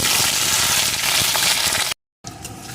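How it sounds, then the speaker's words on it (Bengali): Potato pieces frying in hot oil, a loud, dense, roaring sizzle that holds steady for about two seconds, cuts to a brief silence, then returns as a quieter bubbling fry. "এখন এই তেলের ভিতরে আলুর টুকরোগুলোকে প্রথমে দিয়ে"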